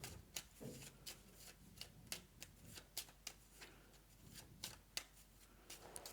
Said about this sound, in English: we're out of cards to draw from, so we'll just shuffle up the discard pile.